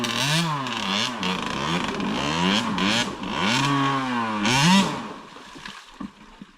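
A Husqvarna TC65 two-stroke dirt bike engine fires and revs repeatedly on a trail, the pitch climbing and falling in rising and falling swells, close and loud before cutting back to a quieter idle.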